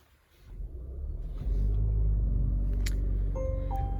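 A 2022 Volvo XC60 B5 AWD Inscription mild hybrid starts up with no starter cranking: a low rumble swells in over about a second, then settles into a steady, close idle, with a faint chime toward the end.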